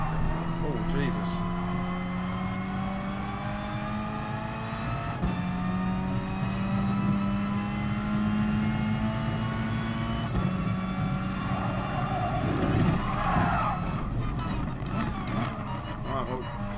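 Race car in the Gran Turismo Sport video game on PS4 Pro, a continuous engine drone rising in pitch through repeated gear shifts, with tire and curb noise as a voice talks over it.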